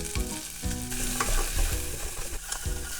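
Frozen edamame frying and being stirred in a pan, with a steady loud sizzle and scraping stirs recurring in bursts, no voices.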